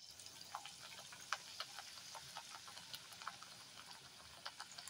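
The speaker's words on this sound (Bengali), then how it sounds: "এবার বেগুনিগুলো আমি বেসনের ব্যাটারে ডুবিয়ে সেগুলো কড়াতে ভাজতে দিচ্ছি" Eggplant slices dipped in gram-flour batter frying in a wok, giving a steady soft sizzle with faint scattered pops and crackles throughout.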